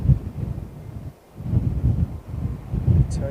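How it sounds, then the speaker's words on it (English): Breezy southwesterly wind at an airport blows across the microphone in low, rumbling surges, with a brief lull partway through before the gusts pick up again. "Turned a bit breezy again."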